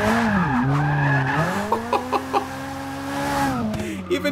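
Tires squeal in a long handbrake skid in Forza Motorsport 6, a Ferrari's revving engine rising and falling in pitch, with a few short knocks partway through.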